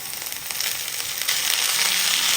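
Sautéed onions and grated carrot are stirred in a hot pan, producing a steady hiss of frying that swells slightly as the vegetables are moved, with no talking.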